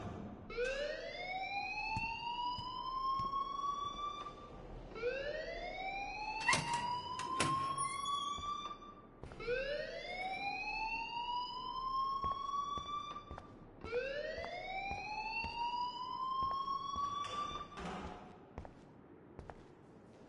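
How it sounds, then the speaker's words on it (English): A siren-like alarm rings in the video game Life is Strange: a loud, rising electronic whoop repeats four times in a steady cycle, close and continuous, with no talking over it. "please turn off that alarm since that's your job"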